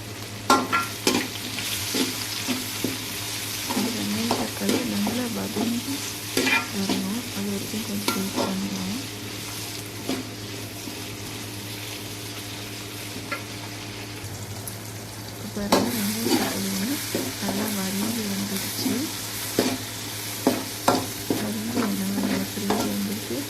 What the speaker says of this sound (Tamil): அதை வந்து சேர்த்துக்கலாம் சேர்த்து நல்லா வதக்கி விட்டுக்கலாம்